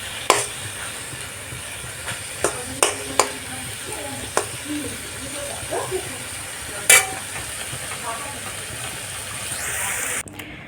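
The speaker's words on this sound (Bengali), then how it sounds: "এখানে দেখো শামলা ভাজা হচ্ছে।" Shamla fish fries in a pan with a low, steady sizzle, punctuated by several sharp clicks and knocks from utensils and handling, plus a few brief background noises near the end; no one speaks.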